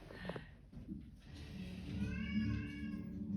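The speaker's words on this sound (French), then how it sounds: "Le chat des Brénéoles, ne miaule pas normalement." A cat meows faintly against a murky, rumbling background, its cries rising and falling over a few seconds.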